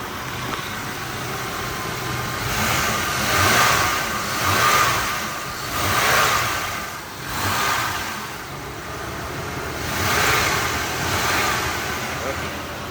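A 2005 Chevrolet Impala engine runs steadily up close as the secondary cooling fan kicks on, with a rhythmic whooshing swell repeating every second or so and a voice talking in the background.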